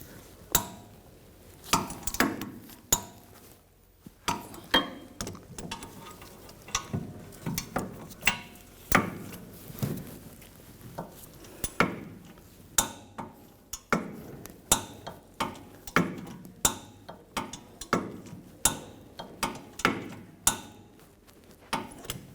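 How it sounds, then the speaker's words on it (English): Torque wrench tightening rear brake bolts on a 2010-2014 Volkswagen GTI, giving a long run of sharp, regular metallic clicks up close, with no talking. "We're going to torque these to 66 foot-pounds"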